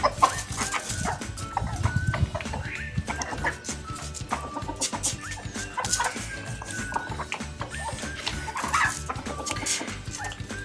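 Chickens feeding on hydroponic green fodder cluck busily and continuously close by, with a dog-like bark or rooster call mixed into the dense flock noise and no talk.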